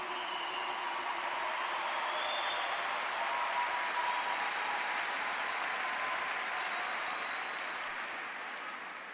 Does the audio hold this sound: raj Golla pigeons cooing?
no